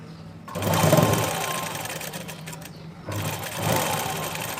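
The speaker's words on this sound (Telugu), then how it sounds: "ఇప్పుడు రివర్స్లో కుడుతున్నాను చూడండి" Sewing machine stitching cloth in reverse while making a frilled frock, in two close, loud whirring runs with a short pause between them.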